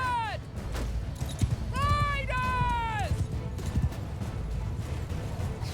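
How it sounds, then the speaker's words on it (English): Horses gallop across a battlefield in Mount & Blade II Bannerlord, a steady rumble of hooves with several sharp whinnies rising over it and occasional impacts in the mix. "Alright, horses, keep coming up here."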